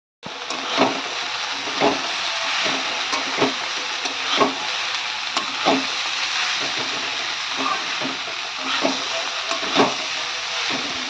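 Cabbage and boiled potatoes fry steadily in a pan, a continuous close sizzle broken by regular stirring scrapes roughly every second, with no voices.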